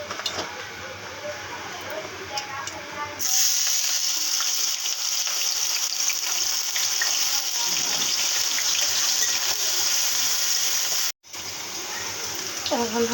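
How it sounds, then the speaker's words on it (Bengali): Onions frying in a pan, a steady loud hiss and sizzle that grows fuller after a few seconds and briefly cuts out near the end, with faint stirring and no talk. "এটার মধ্যে পেঁয়াজ দিয়ে নেব।"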